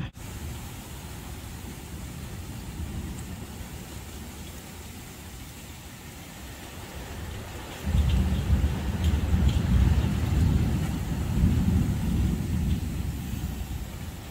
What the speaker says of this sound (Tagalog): Ayan na yung ulan, guys.